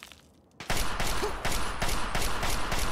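AK rifle fire in the video game Fallout 3, a short quiet lull then a dense burst of rapid automatic shots, loud and close, continuing without pause.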